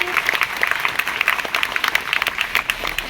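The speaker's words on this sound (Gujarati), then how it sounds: "એટલે આપણે એમના પરિવાર માટે બધા તાળી પાડીશું અને એમને વધાવીશું" An audience at a school farewell ceremony claps for a family, a dense close burst of many hands beating in quick uneven rhythm for about three seconds, with some voices mixed in.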